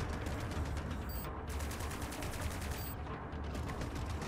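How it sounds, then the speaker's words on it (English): Rapid machine gun fire in the space combat game Strike Suit Zero, dense fast bursts repeating in quick rhythmic volleys with brief gaps, loud and steady throughout without talk. "I'm swapping between, like, a machine gun and the kind of main energy cannon"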